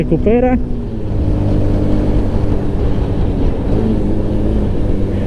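A Honda NX190 motorcycle pulling in third gear, with a steady engine drone and wind rush heard close from the rider's position after a brief voice at the start.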